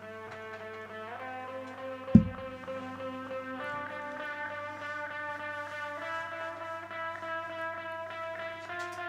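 A synthesized tone starts low and keeps climbing in pitch, with timed echo and slightly wobbling notes, sustained and layered on its own after one sharp click near the start.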